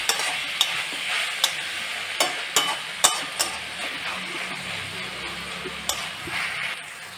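Onion and tomato cooking in a pan for chicken kosha, a continuous close sizzle broken by regular spoon knocks and scrapes against the pan, about a dozen distinct taps spread across the stretch.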